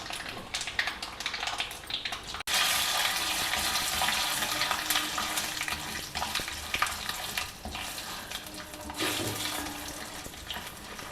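Mustard seeds, urad dal, jeera and chana dal fry in hot oil in a pan, a dense, steady crackling sizzle that jumps louder after a brief pause and carries on without talk.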